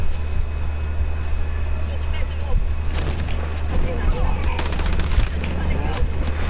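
Gunfire from the video game Ghost Recon Breakpoint: bursts of shots crackle sharply over a steady low rumble, densest in the second half, with someone talking throughout.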